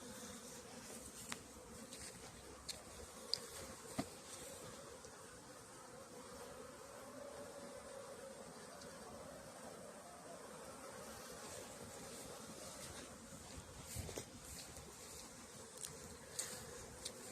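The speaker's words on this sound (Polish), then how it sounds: "znalazłem już kilka takich pojedynczych pszczół, co przylatywały z pyłkiem" Honeybees buzz and drone around at close range by a hive in an apiary in November, a continuous humming swarm with occasional louder passes flying near.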